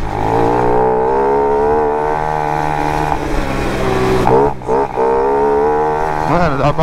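A Honda Pop 110 motorcycle running with no air filter and an inverted intake hose revs while riding, a close, buzzy engine note holding high with quick dips and surges between throttle changes.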